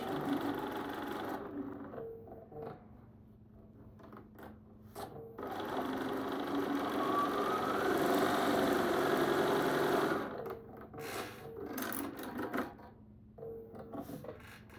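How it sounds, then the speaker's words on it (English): A sewing machine stitches quilt rows with a scant quarter-inch seam, running in rapid mechanical bursts with brief stops between them, a steady rattling hum close by at moderate volume. "Put that together and sew with that scant 1/4 inch."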